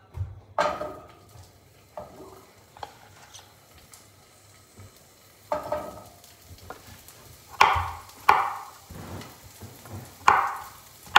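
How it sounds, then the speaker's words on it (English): Zucchini cooking in a pan at home, with a soft background sizzle punctuated by a series of sharp clattering scrapes and clinks of a utensil against the pan, spaced irregularly and close by, with no talk. "Zucchini is cooking."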